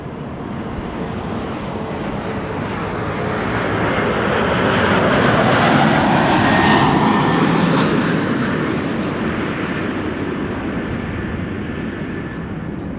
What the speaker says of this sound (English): Triple 777-300ER, Air Canada 10 from Tokyo.